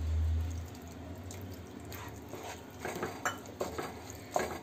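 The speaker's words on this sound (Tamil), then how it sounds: "தக்காளி வேகிறதுக்காக நான் தண்ணி ஆட் பண்ணுறேன்" Half a tumbler of water goes into tomatoes cooking in a pan for egg curry, giving a soft, close splash under a low steady hum, with light clinks of a utensil against the pan and no talking.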